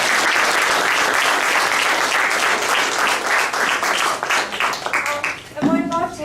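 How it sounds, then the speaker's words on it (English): Conference audience in Singapore gives speakers a loud round of applause, dense close clapping that thins out near the end as a person begins talking. "I could put a round of applause."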